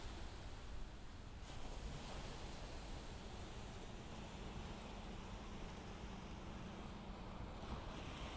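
Ocean surf washes steadily onto the beach at Delnor-Wiggins on a morning walk, a soft continuous roar of waves mixed with wind rumbling across the microphone.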